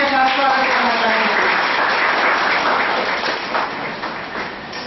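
Clapping from the gathered crowd at the inauguration of an IT lab on an ITI campus, welcoming committee members, a loud continuous patter that starts under a voice and gradually thins toward the end.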